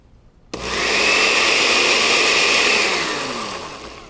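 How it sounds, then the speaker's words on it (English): A blender pureeing garlic for a salad dressing kicks in abruptly and whirs loudly and steadily, its motor whine holding, then slowly easing off toward the end, with no talking. "You need to whiz this until the garlic is really pureed."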